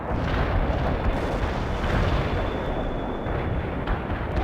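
Artillery barrage in the video game World in Conflict, heard as a dense, continuous roar of rumbling explosions and booms that goes on without a break at steady high loudness.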